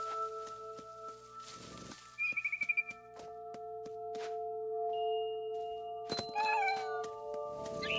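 A cat in the video game What Remains of Edith Finch meows in short bursts and chirps over layered musical tones and game sounds, the cries close and moderately loud.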